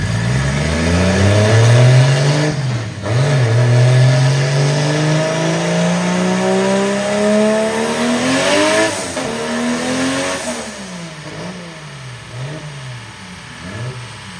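A turbocharged 1.5JZ engine revs hard on a dyno, its pitch climbing steadily through a long pull, dropping at a shift, then rising again, loud and close, ending with several quick throttle blips.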